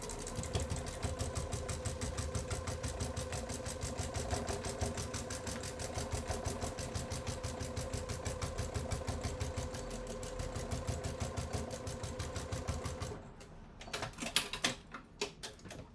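A sewing machine stitches a bag gusset on a 1/4 inch seam, running at a fast steady mechanical rattle for about thirteen seconds, then stopping into a few short bursts and clicks.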